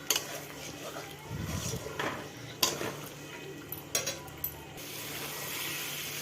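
A spoon stirs an onion and chicken mixture for coriander chicken in a pan over a low gas flame, scraping and clinking against the metal in short bursts with a soft sizzle beneath and a faint voice.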